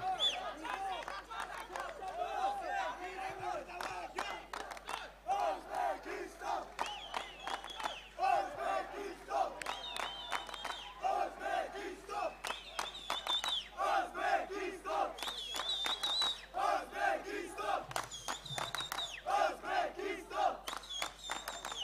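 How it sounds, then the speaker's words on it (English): Crowd at an amateur boxing bout between Magomed Magomedov and Uzbekistan's Naimjon Tukhtaboev roars and shouts, with rising whoops and chant-like cries swelling and fading over steady arena noise; a commentator's voice talks throughout. "We have roaring cheering in the crowd from the fighters in the blue and the red corner."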